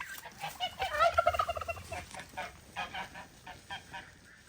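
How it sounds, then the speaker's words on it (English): Several geese on a farm honk in a noisy, overlapping cluster as they try to fly, loudest early then thinning into scattered calls, moderately distant. "There's the geese trying to fly again."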